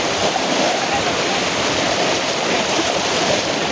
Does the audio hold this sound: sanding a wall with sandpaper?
no